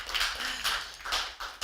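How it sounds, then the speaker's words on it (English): A church or rally audience breaks into brief applause: a short, faint patter of scattered hand claps in quick bursts. "Can I get an amen or an applause?"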